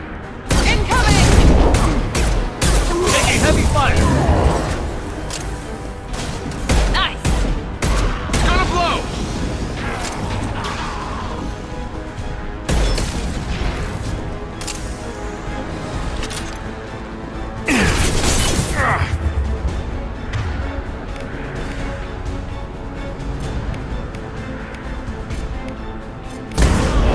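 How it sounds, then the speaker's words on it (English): Dense bursts of heavy gunfire and booming impacts rattle through a battle, loud and close, with shouted voices cutting in over the barrage. "Taking heavy fire."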